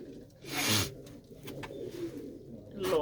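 Pigeons kept in lofts at Mullanpur Kalan, Mandi Gobindgarh, give soft, repeated throaty coos with faint rustling and fluttering around them.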